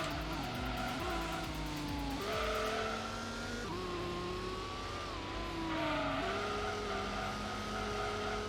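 A Gran Turismo race car in the Tuned Car Cup whines through gear shifts, with a steady engine drone and occasional tire squeal as it slides around sharper corners, loud and continuous.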